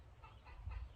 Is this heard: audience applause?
no